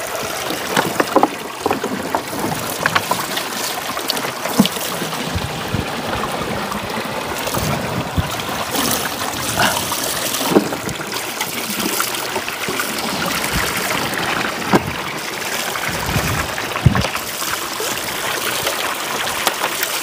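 Stream water runs steadily through a bamboo pipe at a mountain bathing spot, a continuous splashing, gurgling flow close by, with occasional knocks and handling noises over it.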